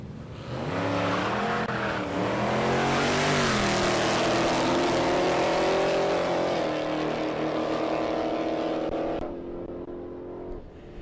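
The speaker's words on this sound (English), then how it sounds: "308 powered VH Commodore wagon." A 308-powered VH Commodore wagon roars down a drag strip at Palmyra Raceway, its V8 engine note climbing through gears in a loud, sustained run lasting about nine seconds before cutting off abruptly.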